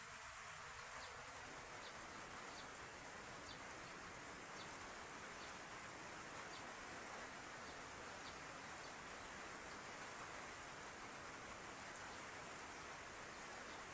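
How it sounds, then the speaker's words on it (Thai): Steady rain falling with wind, a dense continuous hiss with faint insect-like buzzing mixed in, no voices. "ทั้งลมทั้งฝน"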